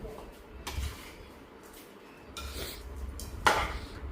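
Beef being stirred in a pot with a homemade spice powder produces scattered scraping and clinking of a spoon against metal, with brief scrapes separated by quieter gaps.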